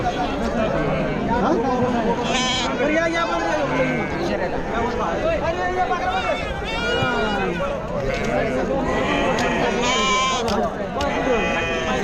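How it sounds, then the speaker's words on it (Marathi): Sheep bleat repeatedly at a large goat and sheep livestock market in Chakan, Maharashtra, several overlapping calls rising above a dense crowd of chattering traders and buyers close by, with voices talking throughout. "मेंढ्या पाहू शकाल भरपूर माल आहे मेंढ्यांचा पण"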